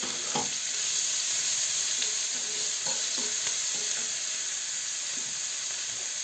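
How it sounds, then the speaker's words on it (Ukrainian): Onion frying in oil in a pan, a steady hissing sizzle with a few clicks of stirring, close and unbroken. "Тепер ми будемо в цій самій олії, будемо жарити цибулю, одну цибулю більшу."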